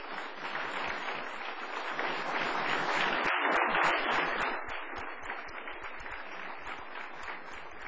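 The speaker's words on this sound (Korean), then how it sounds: "박수 부탁드리겠습니다." Applause from a church congregation as a missionary is welcomed to the front to speak, a dense steady clapping that swells in the middle and then thins toward the end.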